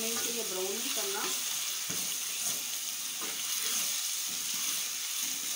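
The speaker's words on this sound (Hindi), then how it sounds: "ये मैंने डाल दिया आलू। थोड़ा सा हम सौते करते हैं इसको" Potatoes sautéing with crushed garlic and ginger in a pan for khatta aloo, giving a steady, even sizzle that runs throughout with a few faint clinks mixed in, no speech.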